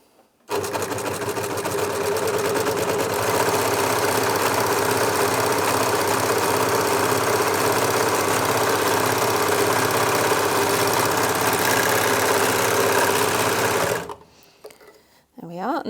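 A Janome 6234XL overlocker stitches and trims fabric in one continuous fast mechanical whir, loud and close, running steadily for about fourteen seconds before stopping abruptly.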